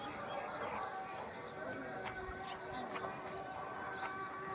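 A horse brought for a Gujarati wedding procession (fuleka) clip-clops on pavement; its hoof taps are soft and scattered under a busy crowd, music and chatter, with voices throughout.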